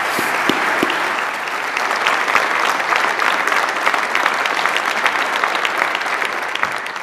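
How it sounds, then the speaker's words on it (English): A large crowd at a Saint Paul State of the City address claps in sustained, dense applause, loud and even across several seconds with scattered sharper claps standing out. "Let's give him a round of applause for representing the hottest new neighborhood in the Twin Cities."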